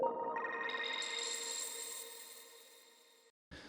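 A bright, shimmering arpeggiated synth lead in a progressive house track, processed with a crystallizer and reverb, rings out with sparkly high overtones and a long reverb tail that fades away, followed by a brief soft burst.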